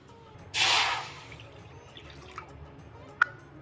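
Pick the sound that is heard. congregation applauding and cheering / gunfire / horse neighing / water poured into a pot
water poured into a pot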